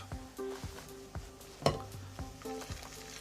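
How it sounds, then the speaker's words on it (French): A spoon or whisk stirs boiling milk into a thick starch mixture in a pot, with soft scraping and bubbling strokes, a few sharp clinks against the pan, quiet and close. "Tu vas me verser progressivement à peu près un tiers du lait bouillant"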